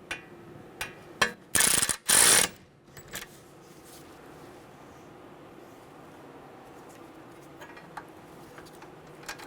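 Ratchet snugging a 12mm bolt on a 2011-2014 Hyundai Sonata front brake backing plate, a few quick clicking bursts and two longer dense ratcheting runs, close and loud, then quiet shop ambience with faint clicks.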